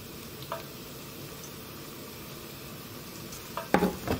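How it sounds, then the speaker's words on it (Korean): A lamb rack steak sizzles steadily in a hot pan, with a constant soft frying hiss and a few sharp pops and clicks near the end. No one speaks. "껍질 없는 부분부터 구워주세요."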